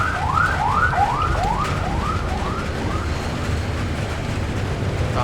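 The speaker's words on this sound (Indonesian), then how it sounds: "Ada ambulan" An ambulance siren wails in repeated rising and falling sweeps as it passes along a busy road, loud at first and fading gradually over steady traffic rumble.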